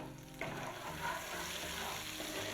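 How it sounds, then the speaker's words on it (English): Belacan shrimp paste fries in hot peanut oil, a steady close sizzle with a soft stirring scrape partway through, nothing spoken. "Once the oil is hot, add in the belacan or the shrimp paste. Cook this for a good minute and keep stirring until it's fragrant"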